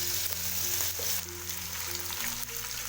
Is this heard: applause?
no